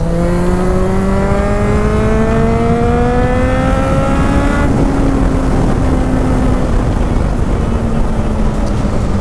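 A Suzuki GSX650F sport motorcycle engine revs up loudly through its exhaust, pitch climbing steadily, then drops back and settles into a lower, falling drone, close and continuous.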